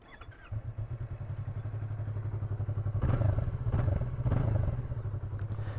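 A 2020 Yamaha MT-03 motorcycle engine starts up close by and settles into a steady, throbbing idle, rising in a couple of brief revs with some mechanical clatter.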